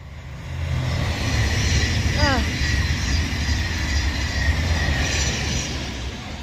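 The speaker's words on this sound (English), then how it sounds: "there's a train coming, it's fast!" A train roars past at speed, a broad rushing rumble building and fading, with a brief wheel squeal in the middle.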